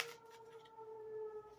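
Sirens wail faintly in the background, a steady tonal howl holding for under two seconds behind quiet room noise.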